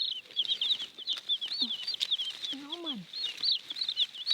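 Chickens clucking in a basket outdoors beside a soursop tree, short throaty clucks and a drawn-out squawk rising over steady insect or bird chatter, with someone talking nearby.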